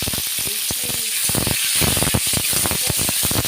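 Elephant foot yam and green chillies frying in hot oil with panch phoron, a loud, dense sizzle and hiss with scattered crackles and spatters, close and continuous.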